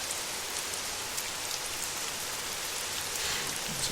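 Steady rain falls at night on a dark graveyard, a dense even hiss of drops pattering on surfaces with no voices.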